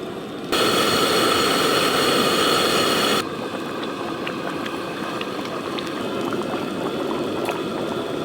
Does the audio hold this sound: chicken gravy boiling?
yes